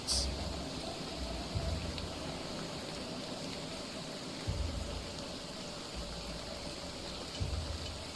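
A storm in a video game brings a soft, continuous hiss of rain. It plays quietly and evenly, with a few dull low thumps now and then and no voices.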